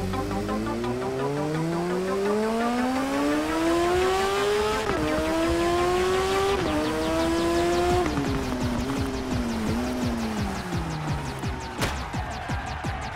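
A motorcycle engine in the TT Isle of Man racing game revs up and climbs through the gears with a loud, sustained whine, steps down at each gear change and keeps droning without a break.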